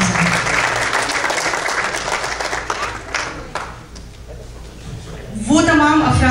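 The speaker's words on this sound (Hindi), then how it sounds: "पुरजोश तालियों में इस्तकबाल कीजिएगा" Loud crowd applause at an Urdu poetry gathering in Richardson, Texas, fades out over a few seconds, then a voice begins speaking over the hall.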